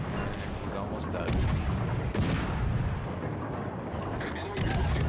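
Battleship guns fire salvos in World of Warships: Legends as dense, booming blasts that roll on continuously over a loud battle din, with a voice talking over the gunfire.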